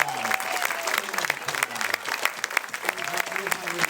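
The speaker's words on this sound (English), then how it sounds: "also a big round of applause for the kids" An audience at a show claps loudly for the kids in dense, sustained applause, with voices heard through the clapping.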